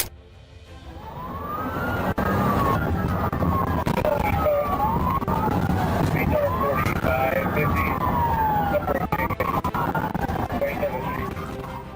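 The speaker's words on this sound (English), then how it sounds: "The sirens blared, but Lamb still sped off." A police car siren wails loud and steady, its pitch sweeping up and down in repeated cycles over engine and road noise as a car speeds off in a chase.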